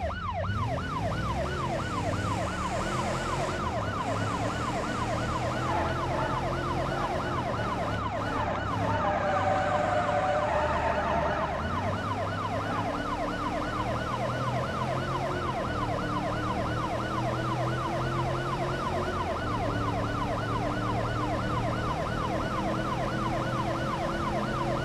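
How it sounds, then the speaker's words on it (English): A police car siren in the BeamNG driving game wails continuously in a fast rising and falling cycle, loud and close over engine rumble, lasting throughout with no speech. "Turn the siren on."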